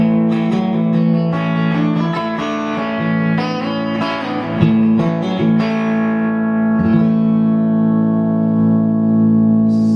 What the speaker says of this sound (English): There's just a very subtle hint of distortion.